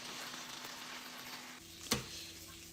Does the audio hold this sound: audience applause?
no